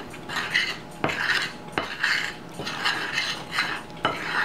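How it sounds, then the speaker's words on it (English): A dry spoon mixes seasoning into breadcrumbs in a bowl, clinking and scraping against the sides in steady strokes about once a second, close and fairly loud. "So I'm going to take a dry, clean spoon and mix that up."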